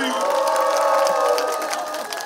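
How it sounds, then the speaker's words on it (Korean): Crowd at a live outdoor festival performance cheering and clapping steadily, a dense wash of voices and applause under a singer's shouted prompts to the audience. "자, 이쪽부터 박수!"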